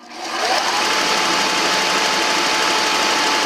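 A Porter Cable 4 x 36 inch belt and 8 inch disc sander whirs up to speed and then runs with a steady, loud mechanical drone close by, with no voices.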